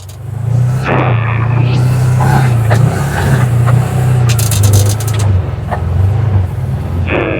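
A CFMOTO ATV with a clutch kit crawls in low gear along a bumpy trail, its engine a loud, steady, close drone with intermittent rattling and clatter over the top.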